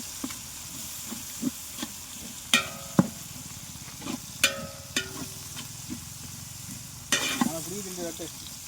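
Ginger garlic paste frying in a pan for chicken biryani, with sizzling and clinks of a ladle stirring in bursts, heard close, with a few distant voices in the background.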